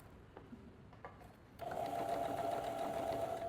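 A home sewing machine stitches a belt loop onto trousers, starting with a few soft clicks, then running in a steady close whirring hum until the end.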